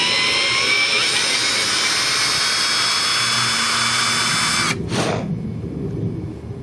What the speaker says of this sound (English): the drill bit on this thing is a left-handed drill bit